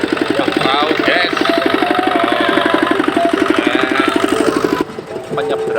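A ferry boat on the Ketapang to Gilimanuk crossing to Bali runs its engine with a loud, steady knocking chug close by, the rhythm continuing for several seconds before dropping off, with voices talking over it.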